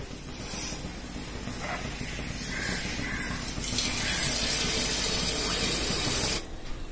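Neyyappam batter hitting hot oil in a home kitchen gives a steady, loud, broadband frying hiss that holds for several seconds and drops out near the end, with no talking.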